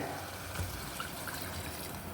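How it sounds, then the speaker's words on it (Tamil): About a glass of water pours steadily into a pot of chicken for coconut chicken curry, a continuous splashing, gurgling stream close by with no talking. "இதில் 1 கிளாஸ் அளவு தண்ணி ஊற்றிக்கோங்க."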